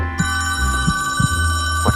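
Telephone ringing in an old-style radio drama, a continuous tinny electronic bell trill with periodic low throbbing pulses, loud and close, with no voices over it.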